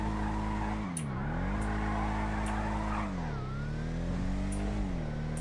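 A Bravado Gauntlet Classic muscle car in GTA V drones along steadily with its engine pitch dipping and rising as it shifts, while tires squeal and skid in short bursts over the constant motor hum.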